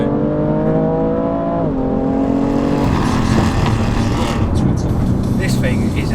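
A BMW M3 Competition accelerates hard around a race track, its engine note climbing through the gears with rising revs and a shift partway through, loud and close over wind roar, with someone talking over it.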